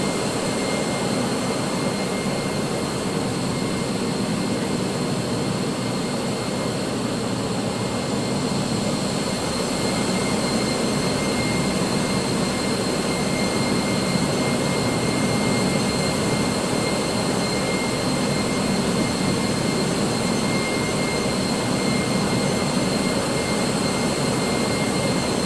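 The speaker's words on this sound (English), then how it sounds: "there's another aircraft just landed" Airbus A320 jet engines in a Microsoft Flight Simulator game after landing at Chennai, a loud, constant turbine roar with a high whine held evenly throughout, no voices.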